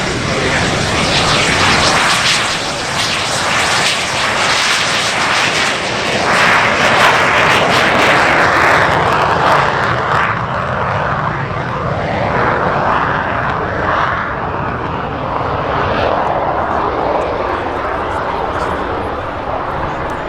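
Royal Air Force Red Arrows aerobatic jets roar loudly overhead at an airshow at EAA AirVenture Oshkosh, a sustained broad engine rush swelling and fading as the formation passes, with an announcer talking over it.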